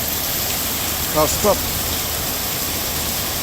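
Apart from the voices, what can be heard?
heavy pouring rain on a road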